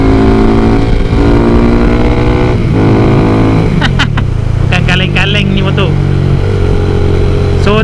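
A loud, throaty VF3i motorcycle engine with a modified exhaust rumbles and revs continuously, close up, with a few crackling pops near the end.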